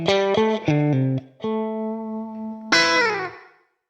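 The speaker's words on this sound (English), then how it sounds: "you can hear we get like a room sort of sound from it." An electric guitar through a reverb pedal with decay set to 1 second plays a few short notes and a sustained tone, then a strummed chord, each trailing off with a brief roomy echo.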